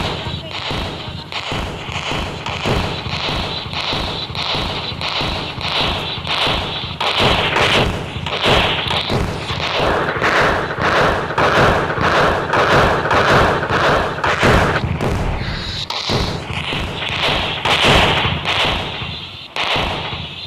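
Long 100 wala firecracker string bursting in the Indian Bike video game, a dense, loud rattle of rapid cracks and thuds lasting about twenty seconds with barely a pause.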